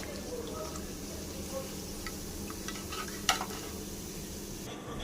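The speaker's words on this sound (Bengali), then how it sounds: "এইভাবে সমস্ত বড়া ভেজে নেব" Coriander leaf fritters (bora) frying in oil give a steady close sizzle, broken by one sharp utensil clink midway, with faint talk in the background.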